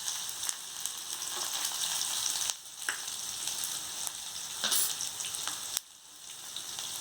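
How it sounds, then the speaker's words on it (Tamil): Onions and roasted cashews frying in oil for tomato poha, a steady bright sizzle close by, with a few brief pauses and stirring bursts, no voices. "இதில் கொஞ்சம் வெங்காயம், கொஞ்சம் வறுத்த முந்திரி பருப்பு போட்டுக்கலாம்."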